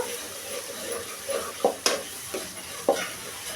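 Tomatoes fry in oil for a okra chutney, a soft steady sizzle with a few sharp stirring clinks and scrapes standing out, close by and fairly quiet.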